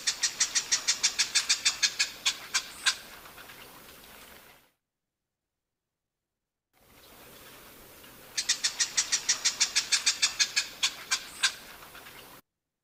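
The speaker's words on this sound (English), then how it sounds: "That's a marsh wren calling." A marsh wren gives two bursts of rapid, rattling chattered song, each a quick run of bright repeated notes followed by a few slower ones, separated by a short silence, clear and fairly close with no talk.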